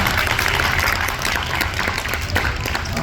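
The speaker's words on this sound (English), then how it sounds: "let's give the team another big round of applause" Audience applause for a glassmaking team, dense steady clapping with a murmuring crowd, moderately loud and continuous for a few seconds.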